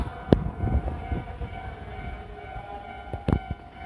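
An electric Joban Line train passes a railway level crossing near Kita-Senju Station, with a steady rumble, a rising and falling warning tone and two sharp bursts at the start and near the end.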